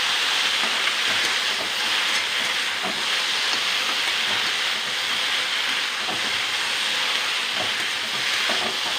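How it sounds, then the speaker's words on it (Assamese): Okra frying in a pan: a steady, dense sizzle and hiss runs the whole time at even loudness, with faint crackles scattered through it and no voices. "প্ৰথমতে এইদৰে ভাজি ভেন্দিখিনি সিজাই ল'ব লাগিব"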